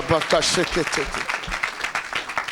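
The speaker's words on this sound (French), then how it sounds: "Acclamez pour Jésus." A church congregation at a Sunday worship service breaks into rhythmic clapping and applause, running beneath someone speaking loudly in the foreground.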